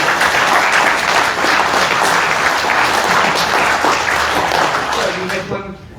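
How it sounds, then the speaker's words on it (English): Loud, sustained audience applause with dense clapping fills a candidates debate hall, holding steady before tapering off at the end. "Everyone here deserves a big round of applause."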